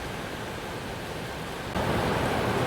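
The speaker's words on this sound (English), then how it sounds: "The rain is pouring." Pouring rain heard as a dense, continuous hiss that grows noticeably louder partway through, with no talking.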